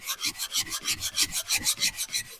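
Sandpaper rubbed by hand across a brake rotor, a steady run of about fourteen rhythmic rasping strokes, close and fairly loud with no voices.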